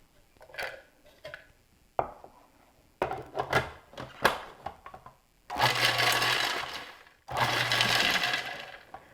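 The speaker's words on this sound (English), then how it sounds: "I'm going to put in the food processor and give it about 10 pulses until it gets really fine" Food processor pulsing bacon, with a few short clattering bursts followed by two longer, loud whirring runs of the motor, close up.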